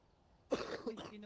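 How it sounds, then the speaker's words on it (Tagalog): One sharp cough after a quiet pause, followed by a short rough throat-clearing tail, close to the microphone during a livestream. "Grabe naman yung ubo na"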